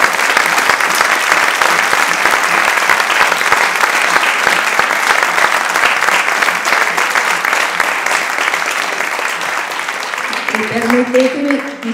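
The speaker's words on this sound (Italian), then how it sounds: "Quindi davvero un grande applauso ancora." Audience at a youth flute ensemble concert applauds in a sustained, dense clatter of clapping for about ten seconds, fading slightly before a voice starts speaking near the end.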